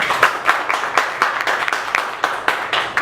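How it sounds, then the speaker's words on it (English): An audience at an improvised film festival claps in a steady burst of applause, the individual claps sharp and rhythmic, rising and falling in waves without a pause. "clap for all of these, but clap the most for the one you like the most"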